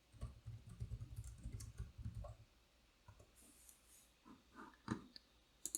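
Computer keyboard typing a search, brisk clusters of soft key clicks after a brief opening passage, close and quiet, with no talk.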